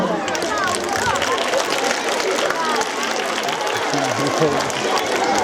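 Audience applause for sixth-grade students receiving diplomas at an end-of-year school graduation; continuous clapping from a crowd, mixed with children's chatter and hubbub throughout.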